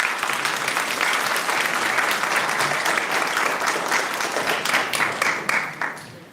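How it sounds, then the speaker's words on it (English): Graduation ceremony audience applauding graduates, a dense sustained roar of many clapping hands, some individual claps standing out near the end as it starts to taper off, no speech over it. "I'd like you to give our graduates a big round of applause"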